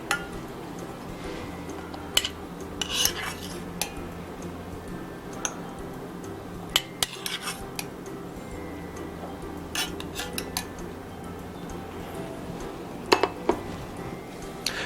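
Abalone and salmon baby food being spooned into a bowl, giving light scattered clinks and taps of a spoon against dishware at close range, separated by quiet gaps.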